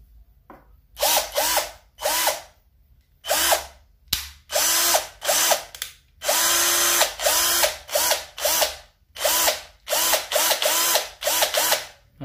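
A Keelat cordless electric drill runs in a string of short trigger bursts, its motor whirring up and cutting off again and again, loud and close, with brief silences between the pulses.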